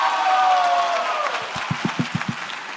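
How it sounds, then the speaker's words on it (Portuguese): Applause from an audience at an award ceremony, a broad crowd wash with a voice trailing off early, then several sharp, close handclaps in a quick rhythmic run near the end. "Salva de palmas para vocês!"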